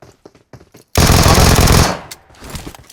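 A Vector submachine gun fires a sustained automatic burst in the PUBG Mobile battle royale game, loud and close, cutting off abruptly after about a second, with brief sounds before and after.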